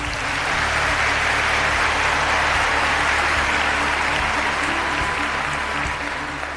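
A studio audience at the O Ses Türkiye singing competition applauds continuously, a broad, loud wash of many clapping hands held steady throughout, with a faint low hum beneath.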